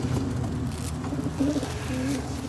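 A low, soft cooing from a bird, likely a pigeon or dove, runs steadily over a dull background hum, close but not loud, with a couple of slightly stronger coos midway.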